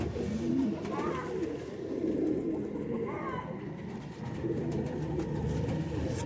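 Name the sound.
Sialkoti black-faced pigeons cooing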